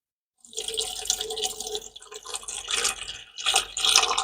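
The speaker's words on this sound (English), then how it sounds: "Now we're putting some water." Water splashes and trickles into a Dreo cool mist humidifier tank in uneven bursts, close by, with no talking.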